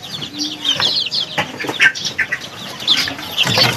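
Aseel and Shamo chickens at a fowl breeder's yard, with scattered clucks, short calls and bursts of wing flapping coming at irregular intervals, fairly close and loud, and no one talking.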